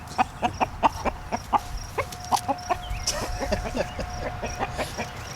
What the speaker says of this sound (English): That's a brave rooster.